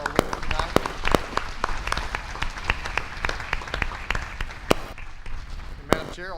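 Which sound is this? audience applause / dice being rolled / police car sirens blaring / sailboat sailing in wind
audience applause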